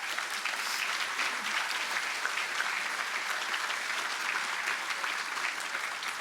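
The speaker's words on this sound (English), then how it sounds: "they all deserve a round of applause." An audience applauds at a university unveiling ceremony for a new student-athlete performance center, with even, sustained clapping at moderate distance and no speech over it.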